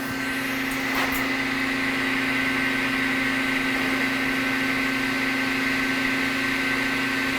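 A QIDI Q1 Pro 3D printer purges filament into its bucket, its motors and fans producing a steady, close, even mechanical hum with a constant tonal drone and one faint tick early on.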